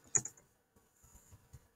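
A few quick keystrokes on a computer keyboard while entering an instance name for a dynamic text box, a short cluster of clicks followed by softer scattered taps, close and quiet.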